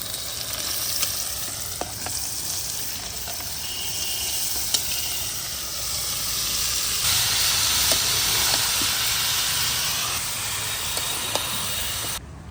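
Tripe dropped into a pan of fried, salted spices sizzles loudly and steadily, a dense continuous frying hiss with occasional crackles and pops and no talk.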